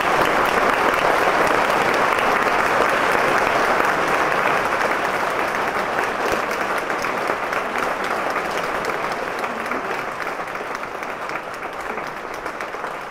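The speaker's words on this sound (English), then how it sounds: "I really want you to give them all a round of applause." An audience applauds in a continuous, dense wash of clapping that starts loud and gradually thins and fades over about thirteen seconds.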